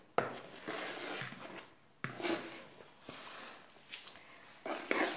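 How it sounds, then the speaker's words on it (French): Flour, cocoa, baking powder and baking soda are mixed in a bowl, giving close, irregular scraping and rubbing strokes with a few sharp knocks of the utensil against the bowl. "dans un autre récipient, j'ai mis la farine, le cacao, la levure chimique plus la cuillère à café de bicarbonate de soude. Maintenant, je vais les mélanger."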